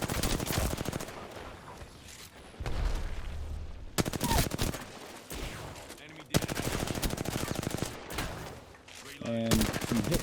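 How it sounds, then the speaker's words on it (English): Rapid automatic gunfire from a 301 rifle fired from the hip in Apex Legends, dense bursts of loud rattling shots broken by brief pauses, with a voice speaking underneath. "Just beat that Bangalore who had a PK by hip firing a 301"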